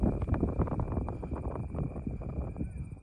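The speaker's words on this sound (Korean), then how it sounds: "얼마나 시원했는지 바람 소리 한번 들어보시겠어요?" Wind blows across a hilltop with a rough, gusty rush buffeting the microphone, fading slightly toward the end, while a faint steady tone hangs in the background.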